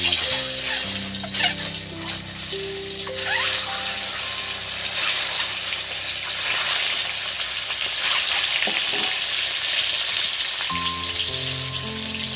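Egg and poppy-seed curry ingredients dropped into hot oil in a home kitchen, giving a steady, loud sizzling hiss with water-like rushing and clatter throughout, no talking.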